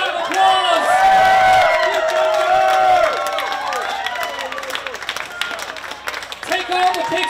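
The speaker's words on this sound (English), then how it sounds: "Give our 6 one more big round of applause." A festival crowd cheers, whoops and applauds loudly and continuously for six cooking competition contestants at an outdoor event, and the sound slowly fades toward the end.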